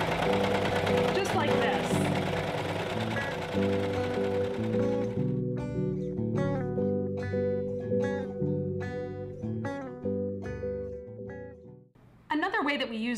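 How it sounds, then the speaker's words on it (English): A serger sews interior seams on stretchy t-shirt fabric, a loud rapid mechanical stitching hum that runs continuously and then settles into a rhythmic chatter, with someone talking briefly over it. "We form our interior seams on the serger,"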